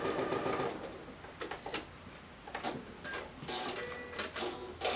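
A sewing machine runs in close, rapid whirring bursts with brief pauses as it stitches fat-quarter quilt blocks together, with no talking.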